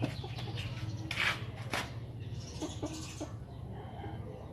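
A chicken clucks in a few short bursts, fairly close, over a steady low background hum.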